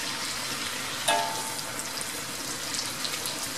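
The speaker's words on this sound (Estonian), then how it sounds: "Sibul tahab ka praadimist natukene saada." Pork and onion frying in a wok, a steady close hiss and crackle of sizzling fat with a brief metallic clink partway through, no talking.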